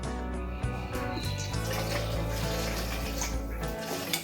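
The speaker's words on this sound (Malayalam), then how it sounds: "അതിനുള്ള വെള്ളം അങ്ങോട്ട് ഒഴിക്കുക" Water pours steadily into flour in a bowl for chapati dough, a close continuous splashing trickle lasting a few seconds, with no talking.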